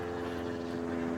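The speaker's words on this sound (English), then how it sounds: "Another plane." A fixed-wing airplane drones steadily overhead, a continuous engine hum with a strong tonal buzz that holds at an even loudness throughout, with no voices.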